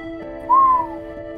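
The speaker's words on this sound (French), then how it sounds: "Sifflement admirateur" A single short admiring whistle, a smooth steady note over a low sustained hum.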